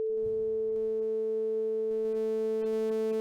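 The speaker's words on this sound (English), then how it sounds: "So there's our sine wave as I turn up the pulse width mod" Synthstrom Deluge synthesizer holding a steady sine-wave tone as pulse width modulation is turned up, so brighter harmonics slowly build above the pure note; a clean, continuous sustained pitch with no voices.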